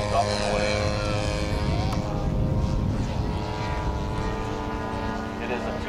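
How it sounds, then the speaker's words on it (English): A radio-controlled propeller biplane takes off at a giant-scale RC airshow, its engine droning steadily at moderate distance while a commentator talks over the PA throughout. "Nice takeoff roll, and he's up and away."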